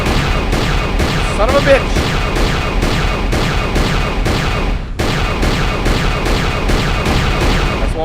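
Star Wars: Knights of the Old Republic 2 gunfire rattles in rapid repeated bursts of loud blaster shots, briefly pausing before resuming, while a man exclaims over the action.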